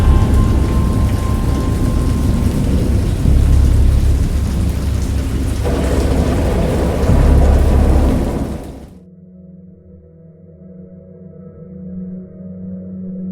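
Heavy rain from a video game thunderstorm roars steadily with a low rumble of thunder rolling underneath, then the downpour cuts off abruptly, leaving a quiet low hum.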